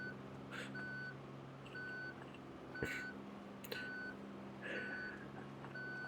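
Vehicle reversing alarm in the driving game BeamNG, a steady series of evenly spaced electronic beeps over a low engine hum, with a couple of sharp knocks between them and no talk.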